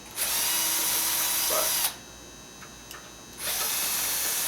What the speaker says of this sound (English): we'll drill a few new holes